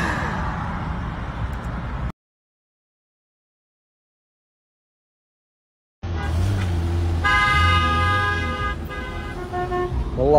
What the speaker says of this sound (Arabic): أحلى شارع بالحياة، 24 ساعة زحمة